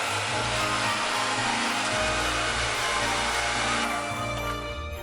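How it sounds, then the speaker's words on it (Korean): An electric mixer whipping mascarpone cheese into cream, a loud steady motor whir running throughout with a slight shift in pitch near the end. "동량의 마스카포네 치즈를 넣고 잘 섞이도록 휘핑해서 크림 완성!"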